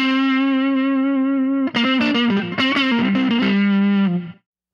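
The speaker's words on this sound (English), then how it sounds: "Here it is with the overdrive pretty well nailed." An electric guitar through a Pigtronix Disnortion pedal's overdrive setting rings out a sustained chord, then plays a quick run of gritty, saturated notes before settling on a final held tone.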